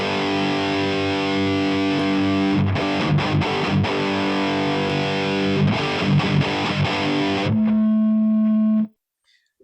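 Electric guitar played through a distorted amp setup without a boost pedal, a loud sustained riff of strummed chords and single notes with a few quick palm-muted chops, ending on a held ringing note that cuts off abruptly.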